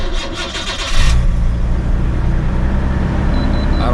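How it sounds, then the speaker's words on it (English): A car's starter cranks with a coarse, forklift-like whir for about a second, then the engine catches and settles into a loud, steady idle rumble close by. "You start it up and it sounds like a literal forklift"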